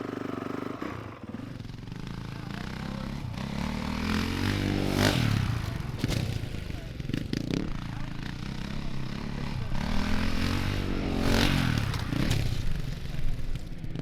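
A motorcycle rides up to and over a jump, its engine rising in two throttle surges over a rough, scraping background at moderate distance, with a voice faintly present.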